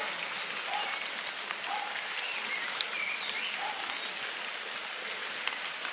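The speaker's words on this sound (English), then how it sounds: "You can see on the lake it's absolutely tipping it down." Heavy rain pours steadily onto a lake and trees in a park, a dense, even hiss of drops with no one speaking, and a few faint bird calls surface briefly through the downpour.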